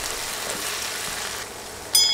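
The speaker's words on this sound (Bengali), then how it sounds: "নেড়ে বাটা মশলাগুলো 10-20 সেকেন্ডের মতো ভেজে নিব" Ginger and garlic pastes with ground spices fry in oil alongside onions, a steady hissing sizzle holding evenly throughout, with a brief bright scrape of a spoon at the end.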